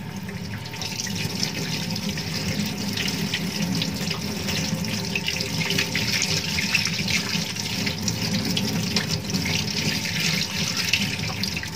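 Steady running tap water splashing over hands into a sink during a handwashing rinse, a continuous close broadband rush with no speech.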